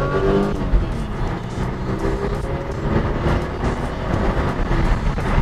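A 500bhp modified Toyota Camry's engine roars under hard acceleration, loud and continuous from inside the vehicle, with rising engine pitch and road noise.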